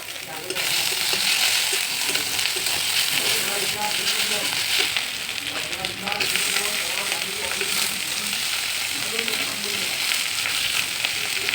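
Onion, green chili, cumin and tomato fry and sizzle loudly and steadily in a pan, with faint stirring scrapes underneath and a brief surge partway through. No one speaks.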